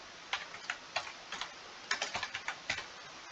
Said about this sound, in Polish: W przeglądarce wpisujemy Pigeon Map.